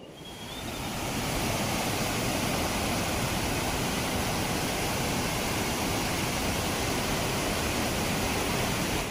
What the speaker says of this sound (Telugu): ఇదే కెనరం వాటర్ ఫాల్ అయితేనే.